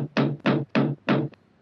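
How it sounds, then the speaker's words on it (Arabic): Four heavy knocks strike a house door in an even, slightly uneven rhythm, loud and close, with a faint fifth tap trailing off in a quiet room. "إذا به يسمع صوت طرق على الباب فجأة"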